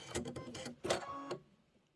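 A sewing machine piecing a quilt back runs in two short bursts of stitching, nearby and fairly quiet, then stops.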